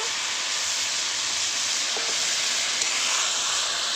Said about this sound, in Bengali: খুব বেশি জল লাগবে না সামান্য একটু জল দেব